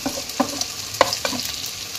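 Onion, garlic and ginger fry in a pan with a steady sizzle, broken by a few sharp scrapes and clicks of a stirring utensil, close and alone.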